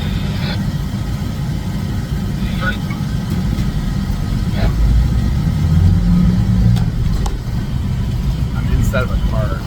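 Steady low road and engine rumble from inside a moving car on Riverside Drive in New York, constant and moderately loud throughout, with a few faint clicks and taps over it.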